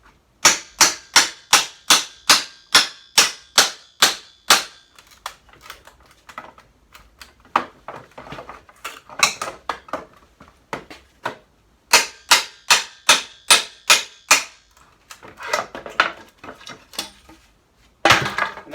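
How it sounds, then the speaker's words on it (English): Rapid series of sharp metallic hammer strikes up close, coming in steady bursts with brief pauses between, as a hammer and pry bar knock nails loose from pallet wood. "Just got a hammer and a pry bar."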